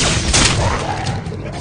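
A shotgun firing in the video game Vivisector, a short loud blast of gunfire that fills the moment and then fades.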